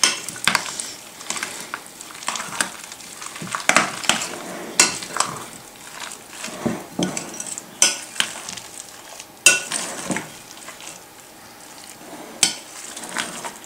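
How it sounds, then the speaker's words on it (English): A creamy hot crab dip mixture being stirred with a utensil in a bowl, producing repeated wet scraping and sharp clinks against the dish in an uneven rhythm, close and fairly loud with no talking. "Get all that mixed together. Nice creamy blend."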